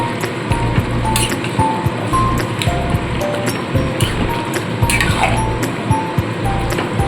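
Bottle gourd shukto being mixed in a pan, with a spatula scraping and clinking against the metal in an irregular rhythm over soft, wet squishing, close and with no talk.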